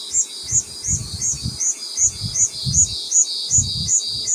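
Cicadas shrill loudly and continuously outdoors at a mountain campsite, a regular pulsing chirp repeating about every third of a second, with a low rhythmic throb underneath and no one talking.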